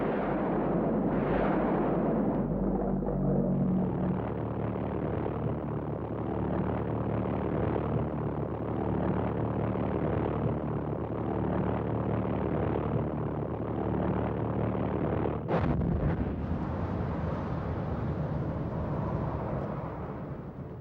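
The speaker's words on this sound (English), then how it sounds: "the first wave of a new terror hit London, the V-1 flying bombs" Archival recording of V-1 flying bombs over London in 1944, a loud, continuous pulsing pulse-jet drone that holds steady, then cuts off into a sharp blast-like crack and fading rumble near the end.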